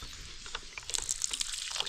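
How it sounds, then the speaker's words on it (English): Water runs from a tap fed by a tank at a home, a faint, light trickle with small splashes and drips over a quiet background. "I think right now the tap is working"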